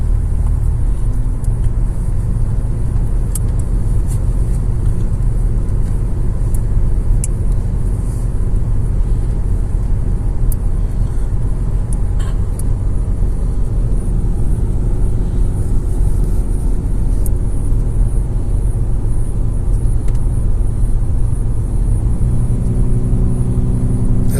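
A car on new tires takes the sharp bends of the mountain road between Mersin and Antalya at a constant speed. A steady, close engine drone and road rumble runs throughout with no talking.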